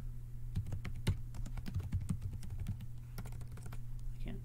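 Computer keyboard typing in quick irregular bursts of key clicks during an Excel statistics calculation, close and moderately loud over a steady low hum, with no talking.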